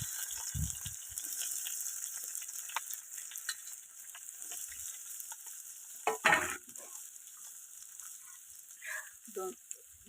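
Onion and green chili paste frying in a pan, a low steady sizzle with occasional clatters of stirring and scraping, including a louder scrape in the middle and a few more toward the end.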